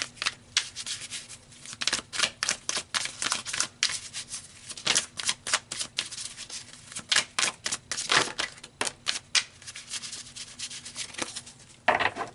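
Repeated crisp riffling and slapping of tarot cards being shuffled close by, in quick uneven bursts with short pauses, no voices.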